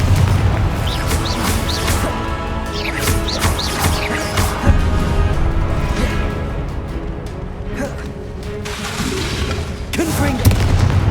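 Confringo spell explosions from the video game Hogwarts Legacy, with repeated booming blasts and crashes spread across a busy, continuous battle mix with scattered bright effects.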